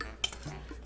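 A metal teaspoon clinks once against a dish while garlic powder goes into a beef jerky marinade, a brief light tap over a faint background.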